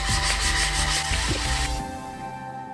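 Steady abrasive rubbing of sandpaper against a hard, dry white cement terrazzo plant pot, close and continuous, fading slightly near the end.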